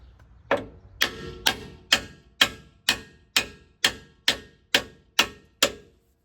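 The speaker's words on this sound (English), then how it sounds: "I have my old trusty rusted mallet I found in the woods" An old rusted mallet strikes a strut bolt on a Toyota Tundra front strut, eleven loud, evenly spaced metallic blows ringing close up with no voices between them.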